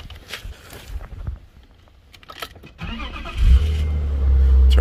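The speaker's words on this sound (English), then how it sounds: "let's turn on the car." A BMW E36 with a freshly tuned ECU and disabled secondary air pump cranks and fires up after a few quiet clicks and shuffling, settling into a close, steady rumbling idle.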